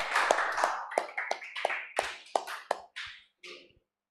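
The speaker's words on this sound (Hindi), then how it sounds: "जोरदार तालियां राहुल योगी के लिए।" Someone claps for a studio guest: about a dozen separate, crisp claps in a quick steady rhythm, loud and close, that thin out and stop after a few seconds.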